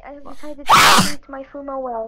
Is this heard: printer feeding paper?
no